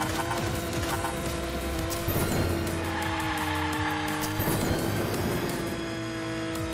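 Continuous roar of a video game race car engine in Hot Wheels Unleashed, a DeLorean, with tires squealing and skidding, loud and steady throughout with a few sharper screeches.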